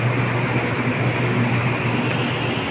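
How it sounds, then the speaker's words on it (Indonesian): An LRT Kelana Jaya Line train at Putra Heights station in Kuala Lumpur, a steady, close electric rail hum and rumble with a constant tonal whine, no voices. "di sebelah sini adalah LRT Kelana Jaya"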